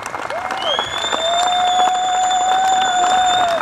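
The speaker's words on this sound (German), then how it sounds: "gebt es bitte schon einmal der Polizei einen anständigen Applaus" Audience clapping and cheering for the police at an outdoor rally opening, a sustained dense wash of applause with a few high whistles, building from a moderate start to a full, steady ovation.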